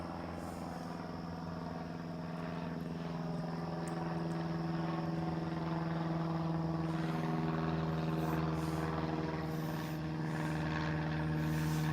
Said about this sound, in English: Oh, the plane.